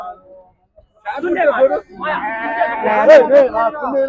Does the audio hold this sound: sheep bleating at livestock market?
yes